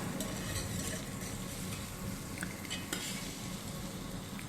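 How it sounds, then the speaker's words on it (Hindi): Drumstick and potato curry with coriander powder, garam masala and chili frying in a pan, a dense steady sizzle under constant stirring with light utensil scrapes and taps. "धनिया पाउडर, गरम मसाला, थोड़ा सा पीसी मिर्च और गरम मसाला सबको डाल के अच्छे से भूनेंगे"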